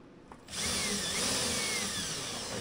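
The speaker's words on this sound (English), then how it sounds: "I'm going to drill this hole." A step drill bit bores a rivet hole for a mud flap on a Trail Rider 570, a steady loud whine starting after a brief pause and grinding on without a break.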